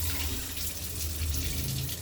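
Tap running at strong pressure in a 2020 Rockwood 2512rk travel trailer, a steady close-up rush and splash of water that carries on without a break and with no talking.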